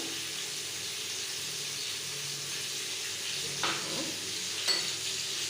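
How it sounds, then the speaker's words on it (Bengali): Potatoes frying in a pan for aloo dum, a soft continuous sizzle with two brief scraping stirs near the end, close but faint, no voices. "যতক্ষণ আলুগুলো ভাজা হচ্ছে"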